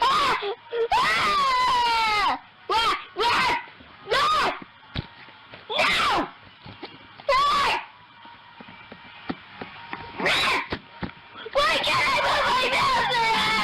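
A screaming animatronic kid gives loud, shrill wails and moans in repeated bursts separated by short quieter gaps, harsh and distorted, with no talking.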